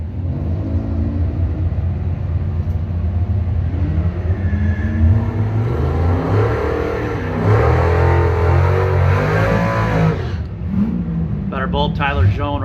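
A 2006 Ford Fusion and a Cadillac CTS at a Chevy-versus-Ford drag racing event, their engines droning and revving loudly and steadily, with a rising surge near the end, while a voice talks over them.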